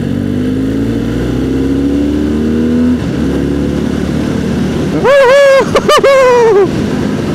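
A BMW R 1300 GS Adventure motorcycle accelerates hard, its engine note climbing through rising revs with quick gear-change dips and a loud close roar.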